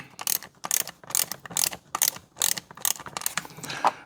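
A socket ratchet turning the nut on a Stihl MS210 chainsaw, about nine quick, evenly spaced clicking strokes, close and clear with no talking.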